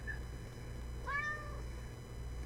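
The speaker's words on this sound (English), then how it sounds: "Sorry, that's my cat there." An indoor cat gives a single clear meow, fairly close, over a low steady background hum.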